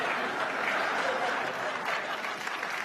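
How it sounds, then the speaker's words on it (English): Sustained applause rolls through a stand-up comedy theatre crowd, a dense even wash of many hands clapping at moderate volume with no break. "No, don't applaud that."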